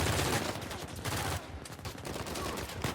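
Gunfire in Uncharted 4 on PS4 aimed at the player, loud dense bursts of rapid shots layered with game noise and a brief lull in the middle.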